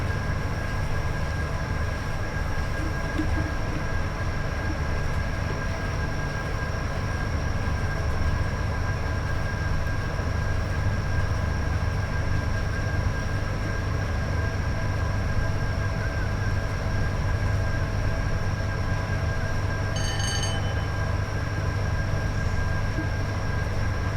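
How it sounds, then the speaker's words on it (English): A Class 87 electric locomotive hauling a mail train on the West Coast Main Line between Preston and Carlisle in Train Sim World 5 gives a steady, close droning hum with sustained whining tones, plus a brief chime near the end. "there's a Class 87 mail train"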